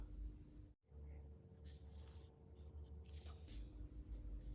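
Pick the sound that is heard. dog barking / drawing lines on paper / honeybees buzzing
drawing lines on paper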